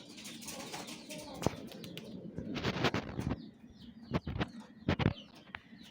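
Pigeons in a loft fighting and cooing, with soft coos, scuffling and sharp wing flaps coming close and fairly loud, faint talk in the background.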